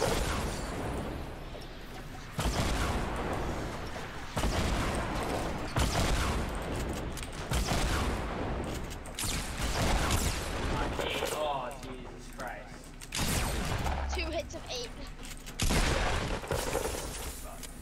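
Repeated bursts of gunfire and impact sounds during a hectic Fortnite Battle Royale fight, loud and continuous with breaks between volleys, while a player talks over the action.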